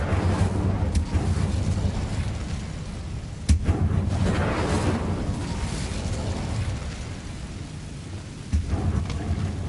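An Incendio fire spell cast in Hogwarts Legacy, a long roaring, rumbling burst of flame that fills the space steadily, with a sharper crack partway through and another near the end.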